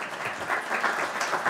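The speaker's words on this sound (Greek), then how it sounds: "Θέλω πραγματικά, επειδή τεχνικοί κάνουν όλη τη δουλειά, ένα χειροκρότημα στον Γιώργο, στον Νίκο και στην Εύα." Audience at a cybersecurity talk giving a round of applause for the technical crew, a full, lively patter of many hands clapping with uneven swells, fairly close and uninterrupted by speech.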